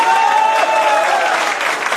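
Sustained applause from an audience at a Karni Sena workers' meeting in Jharkhand, a continuous dense crowd clapping, loud and even throughout, with a faint voice or tone carrying over it.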